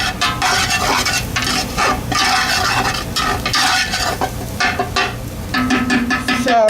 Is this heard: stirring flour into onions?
yes